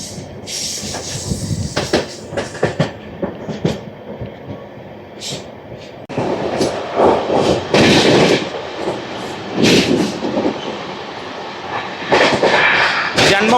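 Amrit Bharat Express on its inaugural Thiruvananthapuram North to Charlapalli run, loud rushing rail noise and clattering wagons with hiss, swelling louder midway as the train passes close.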